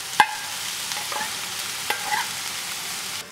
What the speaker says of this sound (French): Faites fondre le miel dans une poêle bien chaude et caraméliser les navets pendant 3 minutes